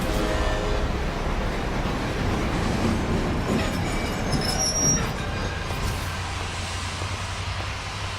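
A train in a video game rumbles past with steady rolling noise and high metallic wheel squeals, loud and close at first, then the low rumble thins and fades toward the end.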